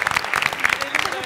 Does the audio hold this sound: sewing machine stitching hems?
no